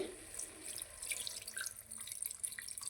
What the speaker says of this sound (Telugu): ఇప్పుడు తగినంత వాటర్ వేసుకుందామండి